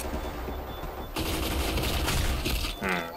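Rapid automatic bursts from a TAR-21 assault rifle in the online shooter Black Squad, a sustained loud volley with sharp impacts and a brief spoken voice near the end.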